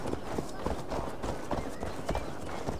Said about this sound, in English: All right, horse, let's go.